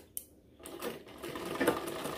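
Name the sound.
sewing machine stitching the side slit of a kameez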